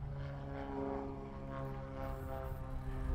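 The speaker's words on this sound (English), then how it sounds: "Oh, there's a plane taking off." A propeller plane takes off at an airfield where Spitfires fly near a race track, giving a steady droning engine hum with a faint rising whine, moderately distant and continuous, with no voices.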